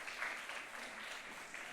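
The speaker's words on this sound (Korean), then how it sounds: "박수 한번 쳐주세요." A crowd at a parents' prayer-meeting lecture claps together, a steady, dense patter of applause that holds at even loudness for a couple of seconds.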